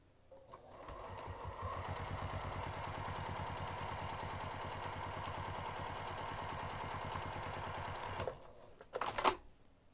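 A sewing machine top stitches the top edge of a craft bag with a long stitch, running in one steady fast-chattering burst for about seven seconds before stopping, followed by a few brief clicks.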